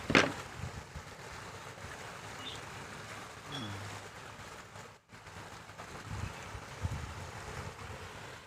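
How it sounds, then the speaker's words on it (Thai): Sea waves wash and surge against rocks below a house balcony as the tide rises, a continuous rough swash mixed with wind buffeting the microphone, with a few brief knocks and handling noises. "ทะเลน้ำกำลังขึ้นนะครับ"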